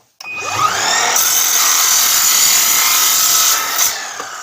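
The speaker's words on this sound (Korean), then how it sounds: "반 자르고 반대편으로 한번 45도를 잘라볼게요." An LS 218M mini miter saw cuts through duct at a 45-degree angle, a loud close whine and grinding rasp that spins up quickly and holds steady for about three seconds before winding down, with no voices.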